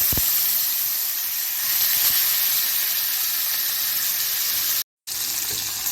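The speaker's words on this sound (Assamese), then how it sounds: "প্ৰথমে মাছখিনি ভাজি লৈছোঁ" Fish frying in hot oil in a pan with ginger-garlic paste nearby, a close, steady broadband hiss and sizzle that runs on evenly and breaks off briefly near the end before resuming, with no voices.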